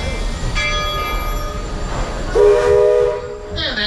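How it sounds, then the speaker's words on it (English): The Disney World Railroad train sounds a short, loud steam whistle as its all-clear signal, rising over the rumble of the moving train, with a brief chime-like tone at the end. "that signal is the all clear signal"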